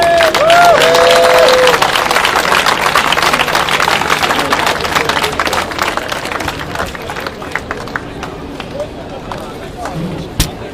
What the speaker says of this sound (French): Un bon main d'applaudissement pour vous tous.